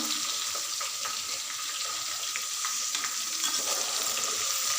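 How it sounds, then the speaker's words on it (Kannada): Eggplant pieces fry in oil with salt, a continuous bright sizzle and crackle with soft stirring, close and steady throughout. "ಸ್ವಲ್ಪ ಉಪ್ಪು ಹಾಕ್ಕೊಂಡು ಫ್ರೈ ಮಾಡ್ಕೊಳ್ಳೋಣ"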